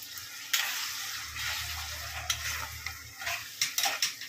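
Spice paste and water hit a pan of fried onion and capsicum, giving a steady close sizzle and bubbling with scraping stirs and a few sharp utensil knocks against the pan.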